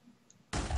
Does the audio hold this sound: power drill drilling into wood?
no